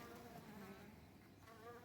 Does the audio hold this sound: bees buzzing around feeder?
yes